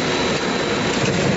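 Steel tube making machine running on a factory floor in Saudi Arabia, a steady dense mechanical hum and whir filling the clip with no pauses, loud and close.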